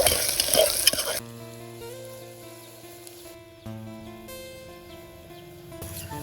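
Chopped garlic and sliced ginger hit hot oil in a pan with a loud burst of sizzling that quickly settles to a quieter, steady fry, close up.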